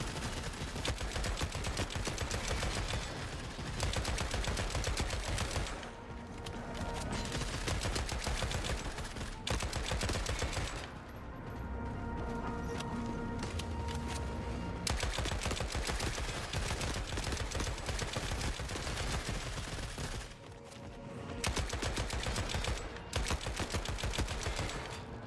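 SMG gunfire in The Forever Winter, long bursts of rapid, loud automatic shots separated by short pauses, firing close and dominating throughout.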